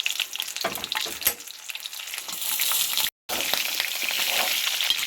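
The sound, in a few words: frying in oil in a pan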